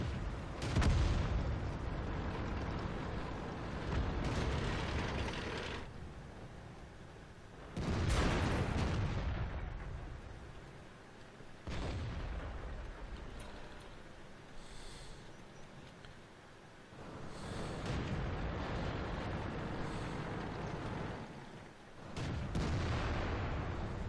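The 120mm gun of a T28 Prototype tank in World of Tanks fires with heavy booming blasts, several loud shots spaced a few seconds apart, each trailing off into a rumbling decay.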